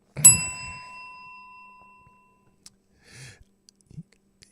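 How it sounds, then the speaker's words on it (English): A service bell rung once at a library desk, a bright metallic ding with a long ringing decay, followed by quiet with faint scattered clicks and rustles. "And I ring the bell to get the librarian over."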